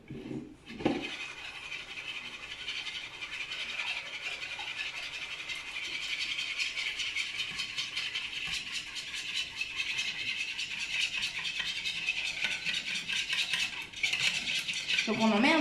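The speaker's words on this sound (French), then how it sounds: "maintenant je vais rajouter 700 ml de lait à température ambiante. On y va progressivement pour ne pas faire de grumeaux." Milk being added gradually to a pan for a lasagne sauce while it is stirred steadily, a continuous scraping and clinking of a utensil against the pan with a brief rattle near the start and another near the end.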